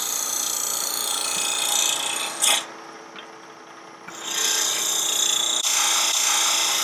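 Wood being hollowed on a lathe with a Hunter Osprey 6 mm carbide cup tool, clearing out the inside of a box for threading: steady close scraping rasp, pausing briefly midway and then resuming.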